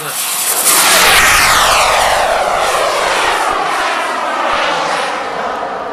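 A model airplane engine roars loudly through a low pass at an IMAA Europe 1999 flying meeting at La Ferté-Alais, its pitch sweeping and climbing as the throttle opens. It stays strong throughout with no clear talk over it.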